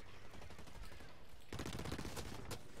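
Rapid automatic gunfire in the shooter game Blacklight Retribution, a steady rattle of shots that grows louder and denser halfway through, with a sharp burst near the end.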